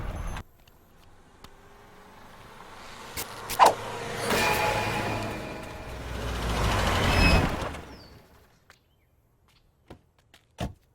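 A car approaches and arrives in a village setting, its engine rising to a broad, loud rumble that swells and fades, with short sharp knocks and clicks near the end and no talking.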